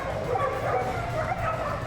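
Dogs at a canicross display at Crufts bark and yip in short, rapid bursts over a busy arena background, moderately close and fairly loud.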